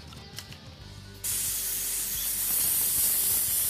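A spray gun hisses steadily as it lays down painted flames on a car, starting abruptly after a quiet moment and holding a loud, even airy spray to the end.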